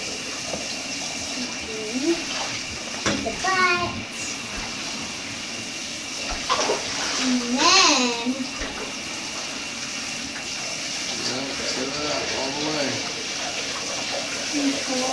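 Lukewarm tap water runs steadily while an American bully dog is rinsed of suds, a continuous splashing wash heard close under a person's intermittent talking.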